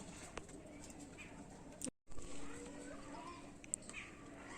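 A pair of Lal Jiria pigeons cooing softly in a loft, low murmuring coos under faint background noise with a brief dropout midway.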